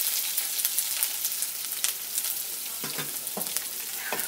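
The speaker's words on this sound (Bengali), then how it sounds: "এবারে দিচ্ছি এর মধ্যে কুচানো পেঁয়াজ।" Chopped onion added to garlic sizzling in a hot pan, a steady close frying hiss with a few soft stirring scrapes and spatters, no talking.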